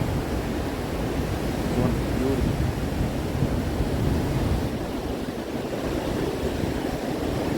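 Ocean surf at Golden Beach in Puri rolls in as a steady, dense wash of breaking waves with some wind rumble across the whole stretch, no voices heard.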